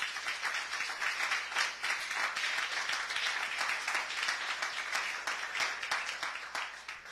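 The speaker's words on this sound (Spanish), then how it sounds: "¿Puedes darle un aplauso a Dios en esta hora?" A church congregation claps together in a dense, steady wash of applause that continues evenly throughout, moderately distant and without clear speech over it.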